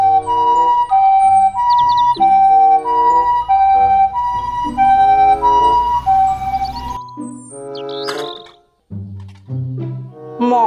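A toy ambulance plays a bright two-tone electronic siren in a steady repeating hi-lo pattern, loud and close, then switches to chirpy electronic effects before a brief cutoff near the end.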